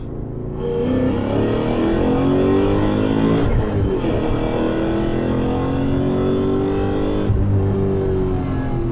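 BMW E39 M5 with Dinan S2 tuning accelerating through the gears from inside the car, a loud continuous engine roar with rising pitch that dips briefly at each shift and climbs again.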